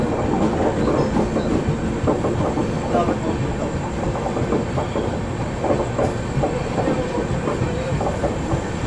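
Vibhuti Express (13047, Howrah to Prayagraj Rambagh) running just after leaving Chittaranjan station, with a steady loud rumble and rhythmic clickety-clack of wheels on rail joints throughout.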